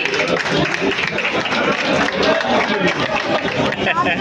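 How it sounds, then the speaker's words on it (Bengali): An audience at a photography exhibition claps loudly and steadily for several seconds, a dense crowd applause with voices mixed in. "জোরে হাততালি।"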